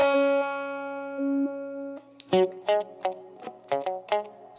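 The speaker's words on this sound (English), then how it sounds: "This is going to be our resonance control now, so let's hear how it sounds." An electric guitar runs through a Walrus Slotva filter pedal with the resonance control raised: a held note rings out and bends slightly, then a quick run of plucked notes comes with sharp, peaky, wah-like attacks, no talking.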